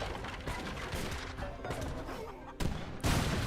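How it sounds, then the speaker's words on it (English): Muskets and falconets firing in the strategy video game Age of Empires 3, a dense crackle of overlapping gunshots and cannon bursts that ends in two louder sharp blasts. "muskets and falconets are gonna target the house first"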